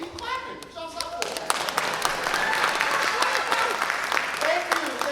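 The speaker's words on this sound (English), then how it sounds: "keep clapping" Audience applause for a stand-up comedian at a comedy show, a dense steady wash of clapping that swells after a second and holds loud to the end, with a few voices calling out over it early on.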